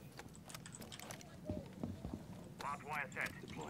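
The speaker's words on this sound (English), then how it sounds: "I hear footsteps. They're upstairs." Footsteps on the floor upstairs in a shooter video game, heard as a run of quick, muffled thuds with a hollow, clip-clop quality and a faint chirping sound near the end. A commentator talks over them.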